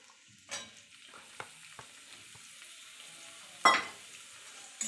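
Chopped onions frying in a pan for Bengali chicken dak bungalow, a quiet steady sizzle broken by a few sharp stirring scrapes and clinks, one louder knock near the end.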